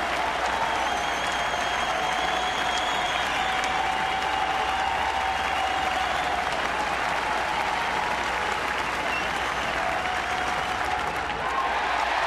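A baseball crowd at a Cleveland at Kansas City game applauds and cheers in a dense, steady roar of clapping that holds evenly loud throughout.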